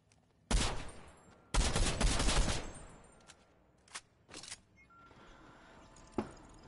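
Bursts of rapid video game gunfire: a short loud volley, then a longer sustained burst, followed by a few scattered fainter shots and a final sharp one.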